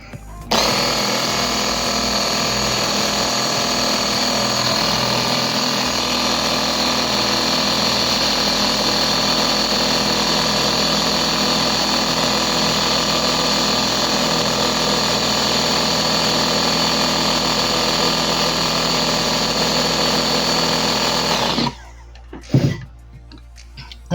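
Blender whizzing raw avocado soap batter in a jug, a loud continuous motor whine running steadily for about twenty seconds before cutting off abruptly, followed by a few brief clunks.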